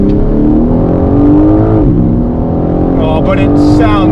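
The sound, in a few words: BMW M4 Competition xDrive engine accelerating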